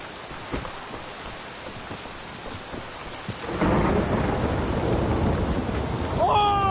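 Heavy rain and thunder in The Witcher 3 video game, starting as lighter patter with faint rumbles before a loud downpour surges in and pours steadily to the end, a brief tonal chime appearing at the close.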